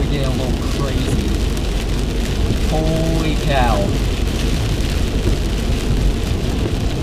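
Heavy rain pounding a moving car during a tornado storm in Chattanooga, a loud constant broadband roar close around the vehicle, with a brief spoken exclamation partway through.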